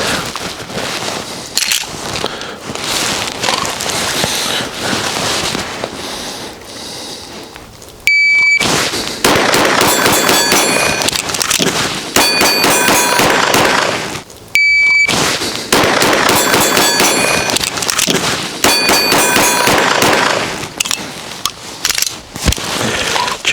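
Rapid bursts of loud pistol shots ring out in quick strings during a 12-shot reload drill, with a short pause and a metallic clack between strings.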